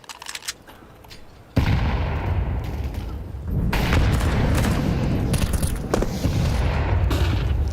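A heavy grenade blast and sustained gunfire in Counter-Strike 2 during a Shanghai Major 2024 match, a sudden loud boom followed by dense, continuous rattling shots.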